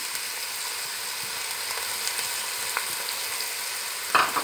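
Onions frying in hot oil in a pot for Hyderabadi chicken biryani: a steady, close sizzle with small crackles and a louder spatter near the end.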